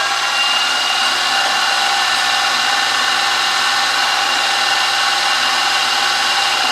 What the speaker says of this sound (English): so we'll get those holes drilled